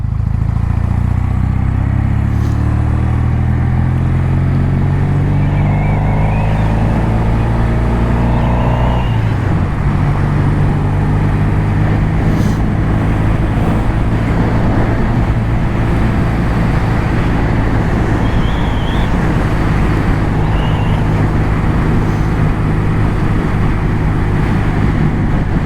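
A Norton Commando 850 MK2 motorcycle engine runs close by, its low throbbing note shifting pitch early on and then settling into a steady, loud rumble that carries on for the rest of the clip.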